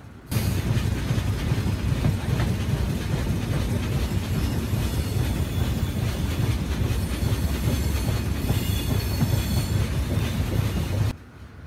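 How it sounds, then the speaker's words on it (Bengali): A Sundarban Express passenger train rumbles along continuously entering Dhaka, with rattling wheels and faint squeals, loud and steady, then cuts off abruptly near the end. "আমাদের ট্রেন প্রবেশ করলো রাজধানী শহরে"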